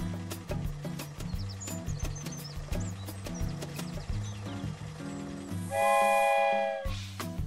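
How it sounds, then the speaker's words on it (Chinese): Cartoon little train sound effect in a children's educational cartoon: a rhythmic chugging clatter of wheels with light musical chimes, ending in a loud sustained multi-tone whistle blast before the chugging resumes. "是小火车马克"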